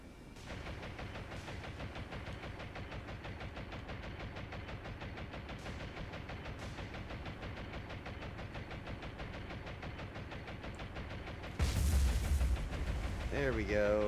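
Continuous rapid gunfire from aircraft strafing ships in the naval video game War on the Sea rattles steadily over a droning engine, with a louder burst near the end, mixed at moderate volume.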